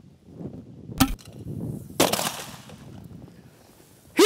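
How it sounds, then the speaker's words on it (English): HPA-powered TAG-ML36 grenade launcher fired outdoors in extreme cold at -21°C. Sharp, hissing pneumatic bangs sound at spaced intervals over a quiet, breezy background. "Archangel, Shot two! Fire in the hole!"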